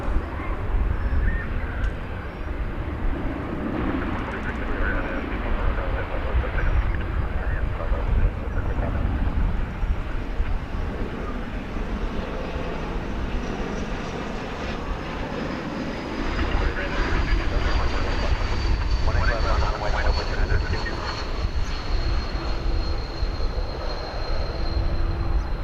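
Breeze Airways airliner flying in from Provo, Utah, at DFW Airport, its sustained engine roar and rushing noise building through the pass, with a rising whine near the end and a person talking over it.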